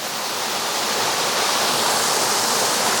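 A waterfall roars steadily at Secret Falls, heard from a ledge beneath the falling water: dense, continuous broadband rushing, loud and unbroken throughout with no voices.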